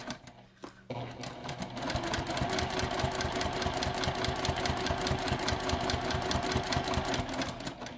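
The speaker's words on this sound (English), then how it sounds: "So I'll just do a few stitches and then do a back stitch." Sewing machine running a short seam with a back stitch, its rapid even needle clatter starting after a brief pause and holding a steady fast rhythm close by.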